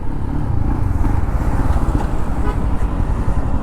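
A Royal Enfield Scram 440 motorcycle rides in sixth gear, with a steady low engine drone mixed with wind rush, heard up close and continuous, with no speech.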